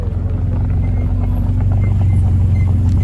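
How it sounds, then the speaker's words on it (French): A Lotus Evora S at a supercar meet gives off a loud, steady low engine rumble nearby, a continuous deep drone with no break across the moment. "Quel bruit, Evora S."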